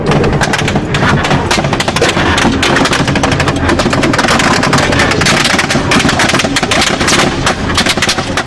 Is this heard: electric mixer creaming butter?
no